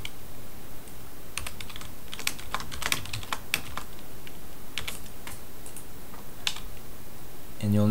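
Steady typing on a computer keyboard at a desk while entering commands in a Windows command prompt, clicking keystrokes in quick irregular bursts, close and clear, with no talking.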